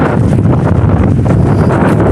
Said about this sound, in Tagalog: Malakas ng palakas yung hangin tuwing umaga